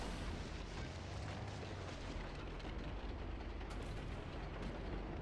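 Tank gun fire in a video game comes as a dense, heavy, continuous rumble of engine and battle noise, with the blind-fired shots lost in a steady roar.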